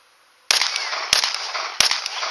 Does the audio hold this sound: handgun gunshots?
yes